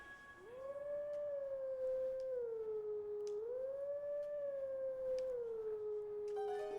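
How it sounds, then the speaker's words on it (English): A video game wolf in Zelda: Twilight Princess howls at a Howling Stone on Death Mountain, giving one long, clear, melodic howl whose pitch rises, holds and dips across several notes, with no voices over it. "So just wait for him to pop, and I can howl straight away"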